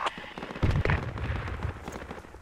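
Mortar rounds in the military shooter game Project Reality land as heavy booming thuds, with rumbling blasts rolling on for a couple of seconds in a noisy battlefield.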